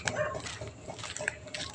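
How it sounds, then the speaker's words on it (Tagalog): Dogs bark at night, giving a few faint, scattered barks and yips from some distance over a quiet background. "kagaya na ito, madaming aso."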